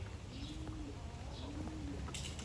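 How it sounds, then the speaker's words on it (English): SV racing pigeons being settled in a yard coo in two soft, rolling phrases at close range, with a quiet outdoor background and no talking. "These are SV pigeons."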